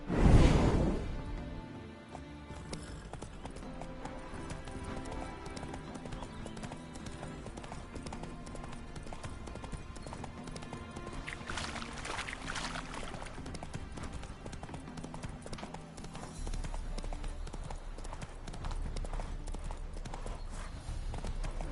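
Roach, the horse in The Witcher III, clip-clops steadily over a long stretch, the hoof beats sitting under game music and ambience without pause.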